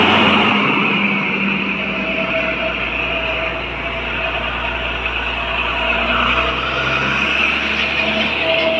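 Heavy trucks rumble past an intercity bus in Aceh on a congested road. The traffic drone is loud and continuous, a steady engine and road roar that swells and eases slightly.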